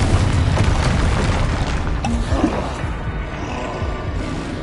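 Confringo, a fire spell from the video game Hogwarts Legacy, going off as a loud booming blast amid dense, continuous game noise.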